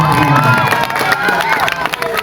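Crowd at an Islamic lecture honouring a champion scout troop breaks into cheering, shouting and scattered clapping, a lively mix of voices with some children's shouts above it.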